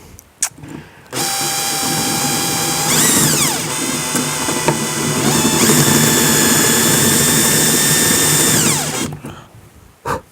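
A power drill fitted with a bendy drill bit runs loud and steady for about eight seconds, whining at a high pitch that dips and rises as the bit bites, then winds down and stops.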